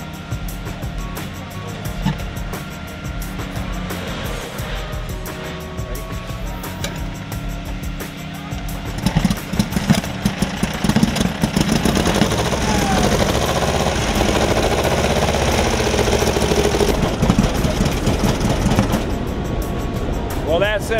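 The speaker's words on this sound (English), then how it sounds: "Well, that's it, another motorcycle running." A Henderson Deluxe motorcycle engine is kick-started and then runs with a rough, uneven chugging idle. It grows louder and busier about halfway through, and voices talk over it close by.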